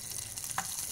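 Ghee poured onto a lit charcoal ember set over simmering Egyptian fava beans gives one brief sharp sizzle burst, close and moderately loud, over a steady background hiss.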